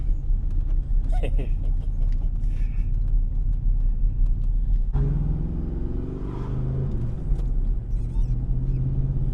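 Pontiac Fiero fitted with a crate V8 engine, heard from inside while driving: a deep steady engine rumble whose pitch climbs as it accelerates through the gears, with someone talking over it.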